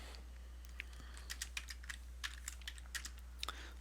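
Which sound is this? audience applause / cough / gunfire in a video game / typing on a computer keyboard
typing on a computer keyboard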